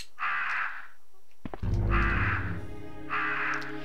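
Crows caw repeatedly in Resident Evil Survivor, three loud harsh bursts spaced apart, with a low rumbling in-game noise under the middle call.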